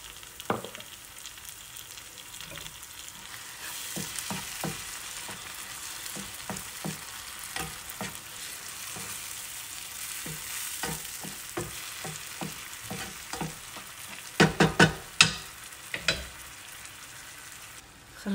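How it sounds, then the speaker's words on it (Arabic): Onion sizzles softly in a pan for a stretch while a spoon stirs it in frequent light scrapes, growing into a few sharper, louder clatters near the end; steady background hiss, no voices. "خليت البصل يتقلى جيدا"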